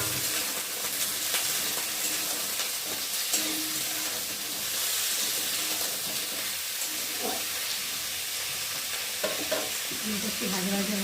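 Potatoes and onions fry in a pan, a constant close sizzle with occasional stirring scrapes and clatters running throughout, steady and moderately quiet.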